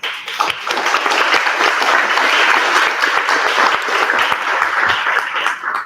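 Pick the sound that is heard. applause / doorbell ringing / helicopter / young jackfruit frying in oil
applause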